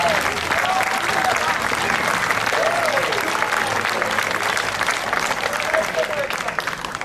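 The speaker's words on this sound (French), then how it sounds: "Un tonnerre d'applaudissements pour Jean-Michel Derlincourt." Sustained audience applause at a Canadian televised show, dense and steady throughout at a moderately loud level, with a few brief voice tones rising above the clapping.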